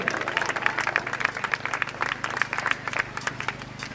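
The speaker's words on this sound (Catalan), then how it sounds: "Un aplaudiment per a totes elles." Sustained applause from a crowd at a CUP political rally in Nou Barris, a dense, even patter of many hands clapping at moderate distance, with a faint voice underneath.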